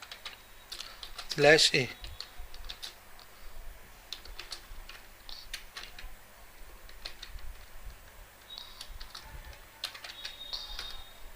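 HTML code being typed on a computer keyboard: rapid light clicking keystrokes in irregular bursts, close, with a person speaking briefly near the start.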